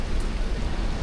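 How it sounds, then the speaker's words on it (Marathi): Heavy monsoon rain at Malshej Ghat pours down as a dense, loud, even hiss with no breaks in a brief burst. "पाऊस मजबूत चालू आहे."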